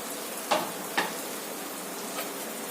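Turmeric, coriander, cumin and dried chilli fry in a hot pan, a steady soft sizzle with a few sharp scraping stirs near the start and one faint stir later, no voices.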